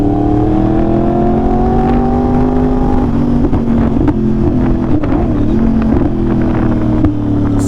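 A Yamaha R1 superbike engine drones loudly and steadily while riding, its pitch rising and dipping through gear changes, with wind rush in the background and no talk.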